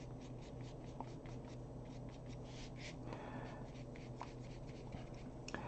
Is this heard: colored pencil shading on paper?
yes